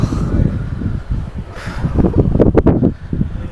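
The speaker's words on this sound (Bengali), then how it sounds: "খুব সুন্দর ঠান্ডা হাওয়া" A cool mountain wind near Dirang in Arunachal Pradesh buffets the microphone, a loud, continuous low rumble that swells and gusts with a faint rustle above it.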